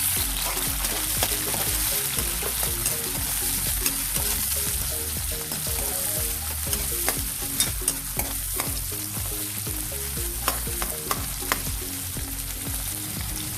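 Garlic, onion and tomato sauté in hot oil, a loud, steady sizzle with frequent scrapes and clinks from a spatula stirring the pan up close, and no voices.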